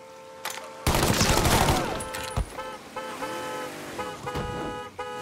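Gunfire in Mafia III crackles as a dense burst of rapid shots, then scattered sharp reports follow amid a blaring car horn and engine noise.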